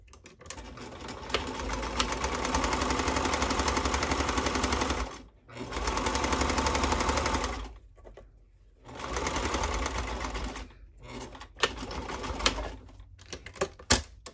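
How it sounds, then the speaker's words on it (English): A sewing machine stitches a 5/8 seam while boxers are being made. It plays as three sustained whirring runs of rapid needle clatter, each a couple of seconds long, separated by pauses with a few isolated clicks. "I'm going to repeat the same line of sewing line on the other side to close off the other pocket"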